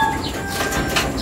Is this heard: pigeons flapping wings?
yes